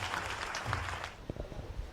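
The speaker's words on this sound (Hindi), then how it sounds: "एक बार जोरदार तालियों के साथ उनका स्वागत करिए" Audience applause welcoming a poet on stage at a Kavi Sammelan, a fairly faint burst of clapping that thins into scattered claps toward the end.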